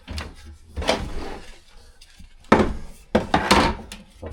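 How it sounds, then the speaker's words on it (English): Two narrowboat kitchen drawers being opened together produce scattered wooden thunks, knocks and sliding scrapes, with a sharper pair of bumps near the end. "then open both the drawers together."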